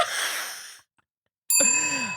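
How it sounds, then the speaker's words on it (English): A handheld bell is struck twice, each strike loud and close, followed by a bright, sustained metallic ring with steady overtones and a faint gap of silence between the two rings. "That's the bell."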